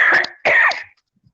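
A person coughs twice in quick succession, close and loud, then falls silent.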